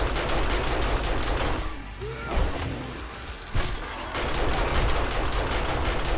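Rapid, sustained SMG fire in the video game 7 Days to Die during a night-70 defence, loud and dense, with a short lull near the middle before the automatic bursts resume and continue to the end.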